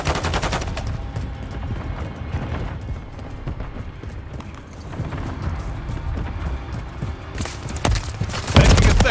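Dense, continuous gunfire from a multiplayer shooter video game match, with rapid shots and bursts rolling on steadily throughout and growing heavier near the end, loud and close.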